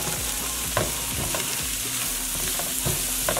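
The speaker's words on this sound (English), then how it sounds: "And we're gonna give it a stir." Cauliflower frying in coconut oil over high heat sizzles continuously while being stirred, with repeated scraping and clattering throughout. Close and fairly loud, with no voices.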